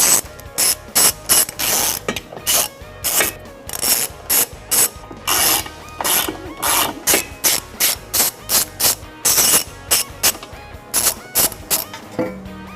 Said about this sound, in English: We can now remove the factory reinforcement beam using a 16mm socket,